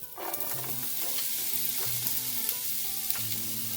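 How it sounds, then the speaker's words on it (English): Chopped onion sizzling steadily in a pan of rosemary-infused olive oil, a continuous close crackle with faint utensil scrapes and stirring. "First thing you want to add to the pan after the rosemary olive oil is your chopped onion."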